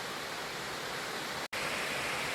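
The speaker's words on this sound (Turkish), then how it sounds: "Şelale çok güzel." The Güzeldere waterfall in Düzce gives a steady, broadband rushing roar that is loud and continuous, broken by one brief dropout in the sound.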